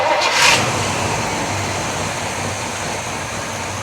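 A 1965 Chevrolet El Camino's engine runs steadily at close range after a brief louder burst at the start, settling into an even rumble as the car is put into gear, with no speech.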